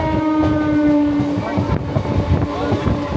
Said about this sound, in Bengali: সময় সকাল 8:34 ছেড়ে দিল আমাদের ট্রেন শিয়ালদা থেকে ক্যানিংয়ের পথে।